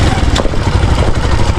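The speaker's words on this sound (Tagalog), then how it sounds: "para maandar ng maaga yung makina" A farm engine running early in the morning, a close, loud, rough mechanical chugging with a steady low throb and slight fluctuations, heard alone without talk.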